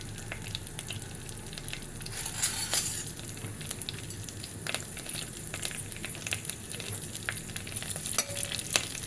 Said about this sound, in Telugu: ఇప్పుడు తాలింపు చిట్పట్లు అవుతుంది.